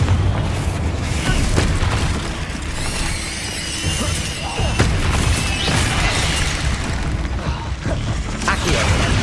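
Confringo fire spells exploding during combat in Hogwarts Legacy: a dense, continuous wash of booms, crackles and mechanical clatter at steady loudness with no clear breaks.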